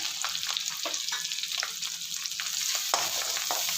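Green chili, ginger, curry leaves and crushed pepper frying in hot oil, a steady dense sizzle with frequent scraping stirs and small pops running throughout, close and fairly loud.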